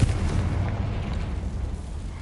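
A Confringo blasting curse detonates in the Hogwarts Legacy video game, a deep, rumbling explosion that rolls on steadily, loud and low with no talk.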